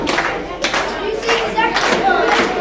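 Wrestling arena crowd clapping and cheering for Shawn Blaze as he gets to his feet after a Death Valley driver, a steady broadband roar with bursts of applause, with a commentator talking over it.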